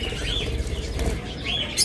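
Budgerigars in a cage give a brief burst of wing flapping with faint chirps, a close fluttering rustle that swells and fades over a couple of seconds.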